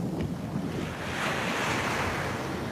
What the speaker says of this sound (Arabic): الله، صوت البحر ما أحلاه.